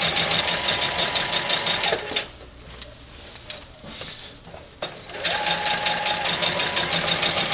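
A sewing machine stitches a border onto a quilt top in loud, fast, steady runs, with a brief quieter pause in the middle before stitching resumes.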